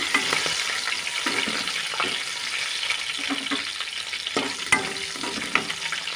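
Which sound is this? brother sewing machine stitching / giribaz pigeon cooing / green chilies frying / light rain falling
green chilies frying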